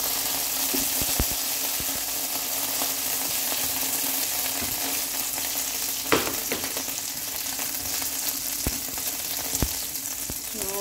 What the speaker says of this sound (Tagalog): lulutuin natin ang kanyang glaze, soy glaze